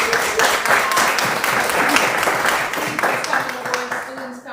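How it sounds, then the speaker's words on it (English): Audience applauding school principals at a school board meeting in McComb, a steady wash of many hands clapping throughout with voices talking over it. "I would like us to give these principals a hand clap"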